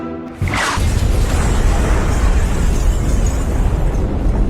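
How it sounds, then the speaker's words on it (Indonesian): A loud explosion from an action film erupts after a brief quiet start, a sustained roaring blast with heavy low rumble and debris filling the rest of the clip. "Akibat ledakan tersebut,"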